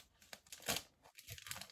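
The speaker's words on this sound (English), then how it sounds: "I am putting it in a plastic bag." Plastic sealer bag crinkling as an item is packed for shipping: faint, close rustles and crackles in irregular bursts, with a brief louder crunch partway through.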